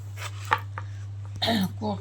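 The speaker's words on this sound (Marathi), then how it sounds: "टोमॅटो बघा चिरून घेते मी आता" A knife chops tomatoes on a board in a home kitchen, a few uneven close taps and cuts over a steady low electrical hum, with brief talking in between.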